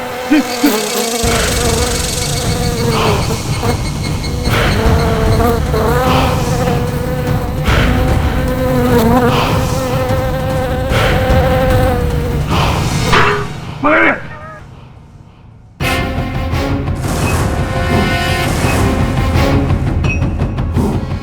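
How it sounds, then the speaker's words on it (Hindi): A housefly buzzes loudly and almost continuously through a comedic courtroom-drama scene, with a dense wavering drone and other sounds layered on top. It cuts out briefly near the end, then returns. "बचाओ, ये मक्खी मार देगी मुझे, ये मक्खी मार देगी।"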